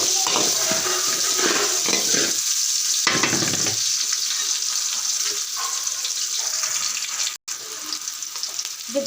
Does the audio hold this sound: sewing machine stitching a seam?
no